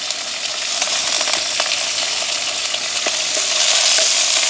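Onions, green chillies and curry leaves frying in hot oil with a steady, close crackling sizzle and occasional sharper pops throughout.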